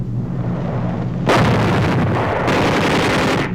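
Wartime bombing explosions from 1945 Philippines footage rumble over a low background hum, then erupt into a heavy, sustained barrage of booming blasts with a short lull partway through.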